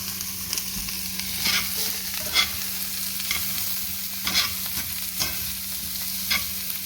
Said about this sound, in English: We just want to cook these onions down just a little bit before we add the shrimp to it.